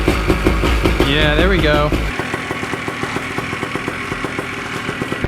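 A paramotor engine starts on the first pull, revving briefly before settling into a steady, close, throbbing idle, with someone speaking over it.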